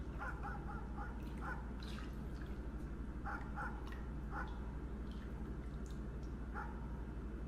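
Dogs in a horror video game let out faint, distant barks in short clusters over a steady low background hum.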